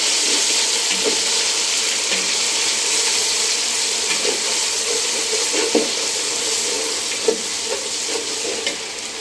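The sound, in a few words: ginger and garlic frying in a pan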